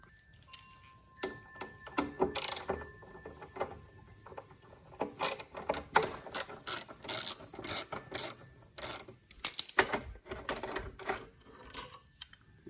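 Ratchet removing an 8 mm reflector bolt on a 2020 Kawasaki ZX14 motorcycle, bursts of sharp rapid clicking repeated in quick strokes, close and loud with no speech.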